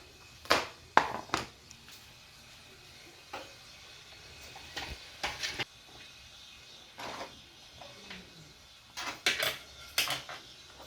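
A knife chopping green peppers on a board at home, scattered sharp knocks in short clusters with quiet gaps between, close and fairly soft.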